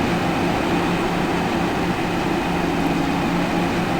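A simulated Metro-North New Haven Line train standing at a platform in the Open Rails train game gives off a steady, loud, unbroken rumble and hum.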